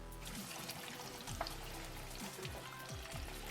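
A blooming onion deep-frying in a pan of hot oil, soft crackling sizzle with oil being spooned over it, faint liquid pours and gentle scraping close by, no voices.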